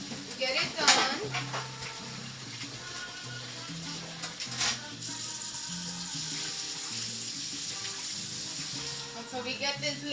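Rice for rice with pigeon peas is rinsed in water under a running kitchen tap, with steady close splashing and swishing throughout, occasional sharper clinks, and soft background music underneath.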